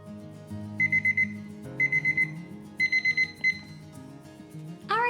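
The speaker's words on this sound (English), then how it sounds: "So the 30-minute timer just went off" A kitchen timer alarm goes off in four rapid bursts of beeping tones, each a quick run of sharp electronic beeps followed by a pause, loud and close in a quiet room.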